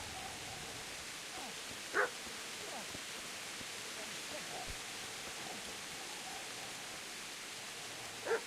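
In the medieval game Kingdom Come: Deliverance, a dog barks twice in the distance, spaced several seconds apart, over a steady hiss of ambient outdoor noise.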